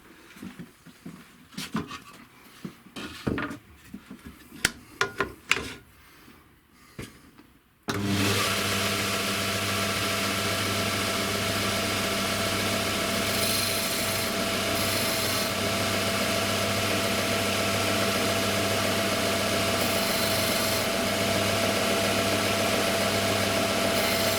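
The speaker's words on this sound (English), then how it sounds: "I'm going to take these over to my sander now and I'm going to square the ends off" A few seconds of scattered knocks and handling noise, then a power sander starts squaring the ends of Corian worktop pen blanks, running steadily and loudly, a constant whirring drone to the end.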